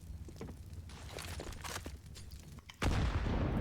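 Grenade blasts in Counter-Strike, with bursts of gunfire and crackling impacts building up before a loud, heavy explosion near the end that fills the last second.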